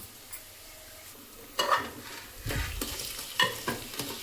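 Boiled trotters stirred into a frying masala paste in a pan: a steady low sizzle with repeated scraping stir strokes, a few louder clatters of the spoon against the pan, close up and without talk.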